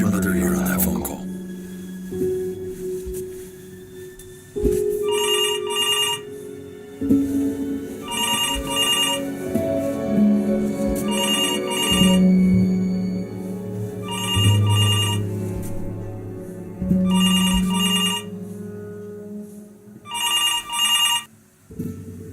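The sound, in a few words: telephone ringing in the video game Before Your Eyes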